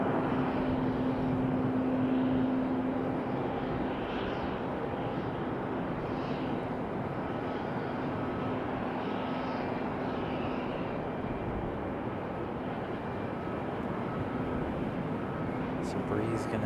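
A Breeze Airways airliner rolls on the runway at Raleigh-Durham airport with a steady, loud engine roar throughout, with a voice faintly under the noise.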